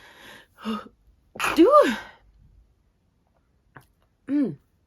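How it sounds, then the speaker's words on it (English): A single close sneeze with a sharp inhaled buildup, set between brief bits of talk; another short vocal burst follows a moment later. "I'm gonna sneeze"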